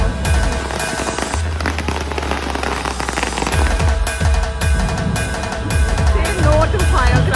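Firecrackers go off at a Ganpati street parade, loud sharp bursts and rapid crackling layered over booming music and drumming, with crowd noise throughout.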